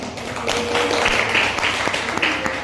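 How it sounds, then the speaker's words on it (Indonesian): Applause from a classroom group at a school practice session, a short spell of light, scattered clapping with sharp taps over a faint background murmur. "Tepuk tangan teman-teman."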